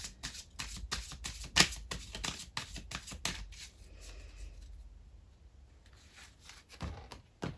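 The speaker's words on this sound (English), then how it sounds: "I can't get the cards to shuffle in, slot into place." Tarot cards shuffled by hand in quick riffling bursts, a run of sharp rapid flicks, then a quieter pause with soft handling before a few more snaps at the end.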